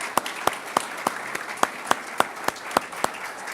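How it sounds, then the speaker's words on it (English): Applause at an Arlington civic recognition ceremony honoring a sports team, with moderately loud, regular claps standing out from a softer crowd patter over a few seconds. "Round of applause for them as well."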